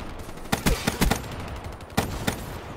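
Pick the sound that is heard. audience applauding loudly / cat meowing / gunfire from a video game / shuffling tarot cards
gunfire from a video game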